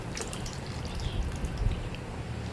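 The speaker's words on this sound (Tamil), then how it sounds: "இந்த ஸ்டேஜில் நான் கரைச்சி எடுத்து வச்சுருக்க புளி தண்ணி அதை ஆட் பண்ணுறேன்" Tamarind water poured into a simmering horse gram curry, a soft continuous liquid trickle and splash with faint bubbling, close and steady with no talking.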